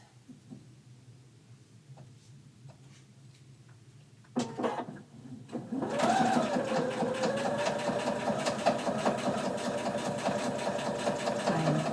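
A sewing machine stitching a fabric corner bookmark starts up after a few quiet seconds and small handling clicks, then runs steadily and loudly with a rapid mechanical whir that continues to the end.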